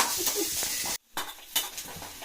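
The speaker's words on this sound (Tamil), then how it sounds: "இதை இந்த தாளிப்பை அப்படியே இந்த டாலில் ஊற்றிட்டு" Hot tempering (tadka) sizzles and crackles as it is poured into dal in a home kitchen. The hiss is steady, then cuts out briefly and comes back with softer, uneven spitting and a few light clinks.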